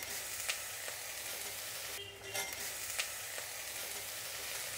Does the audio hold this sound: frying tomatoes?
yes